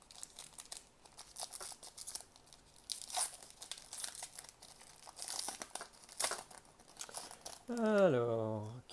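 A pack of Panini Classics 2010-2011 basketball cards is torn open, close crinkling and tearing foil in bursts, with a voice briefly heard near the end.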